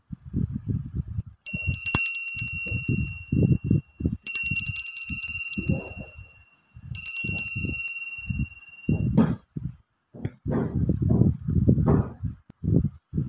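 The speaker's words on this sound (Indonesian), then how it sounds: "kita akan melanjutkan dengan ditandai lonceng berbunyi" Three sustained ringing bell tones, each lasting a couple of seconds, sound one after another while a voice talks underneath.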